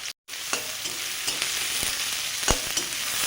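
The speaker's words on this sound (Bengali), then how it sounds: "সর্ষের তেল, এবারে ছোলা একটু কষে নেব।" Chickpeas with dried red chilies, whole cumin and chopped onion fry in hot mustard oil, a steady dense sizzle running throughout with a few sharp spatters and pops, close and fairly loud.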